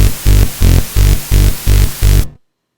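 Regular pumping bursts of loud white noise with a kick drum, played without side chaining in FL Studio, six even pulses that swell at each beat and then cut off sharply into silence.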